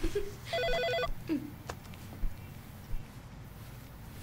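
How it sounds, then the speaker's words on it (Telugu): An electronic telephone ringer trills in two bursts of warbling rings early on, moderately close, followed by quieter room sounds and faint shuffling movement. "స్మిత, ఆ ఫోన్ తీయవే."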